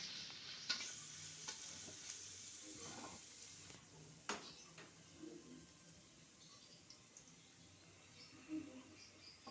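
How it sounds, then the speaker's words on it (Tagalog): Garlic and onion sauté in a pan with a faint, continuous sizzle and occasional stirring scrapes, quiet and slightly distant, with a soft voice faintly audible underneath. "Igigisa na natin yung sibuyas tsaka yung bawang."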